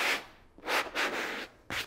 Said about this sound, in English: take a fine grit sanding sponge, and you just want to gently